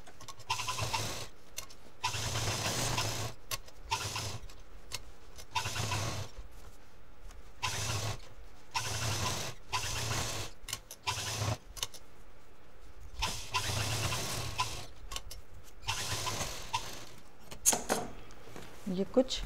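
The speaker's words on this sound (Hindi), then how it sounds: "अब इसमें हम फिनिशिंग की मशीन चलाएंगे।" A sewing machine stitches a large cloth shopping bag in repeated short whirring runs with brief pauses between them, while a person talks throughout.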